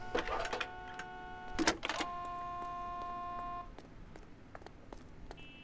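Telephone call signal in the video game L.A. Noire: a few sharp clicks and bursts, then a steady electronic tone held for a couple of seconds before dropping to quiet background with faint high chirps.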